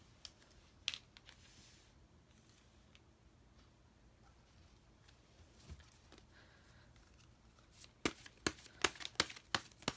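Tarot cards are shuffled and drawn in soft, faint riffling and rustling, with a quick burst of crisp card snaps and taps near the end.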